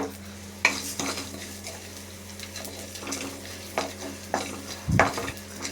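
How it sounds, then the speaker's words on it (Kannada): Cumin, pepper, poppy seeds, mace and other whole spices dry-roasting on medium heat in a pan for vangibath powder, with a soft crackle under several sharp scraping stirs and utensil knocks against the pan. "ಮಧ್ಯಮ ಉರಿಯಲ್ಲಿ ಹುರಿಯೋದು."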